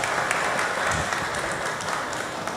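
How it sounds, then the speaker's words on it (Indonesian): Guests applaud at a church wedding blessing, a dense, even wash of clapping from a crowd that stays steady throughout, with a few brighter individual claps standing out. "Mari kita beri tepuk tangan."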